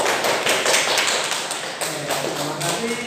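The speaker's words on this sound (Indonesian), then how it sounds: "Baiklah, kalau begitu beri tepuk tangan ya." A classroom group claps together after a student presentation, a dense, steady patter of many hands that runs for about three seconds, fairly close and loud, with faint voices underneath.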